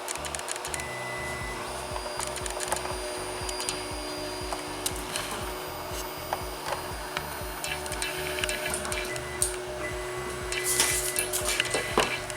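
Wanhao D9 3D printer running automatic bed leveling, a steady mechanical whir with rhythmic stepper-motor pulses and faint clicks, close and continuous with no voices.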